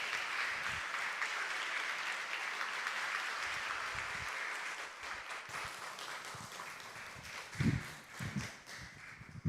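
A church congregation claps to welcome the pastor to the front, a steady, distant wash of applause that thins out toward the end, with a few louder bumps and footfall-like thuds.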